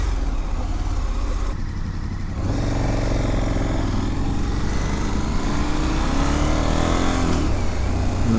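A 2019 KTM 1290 Super Adventure S motorcycle accelerating hard in second gear, heard as a continuous loud engine roar mixed with wind rush from onboard, rising in pitch toward the end.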